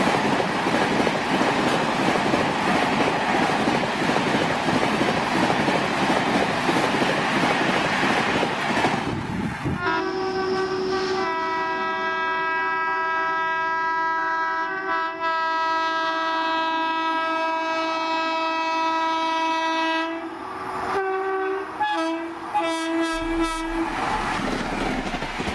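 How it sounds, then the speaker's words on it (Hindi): Tejas Rajdhani Express hauled by a WAP 7 locomotive racing past at 130 km/h: loud rushing roar of wheels and wagons, then a long sustained multi-tone horn blast lasting about ten seconds, with rumbling rail noise continuing underneath. "Patna new Delhi Tejas Rajdhani express 130 per hour WAP 7 locomotive."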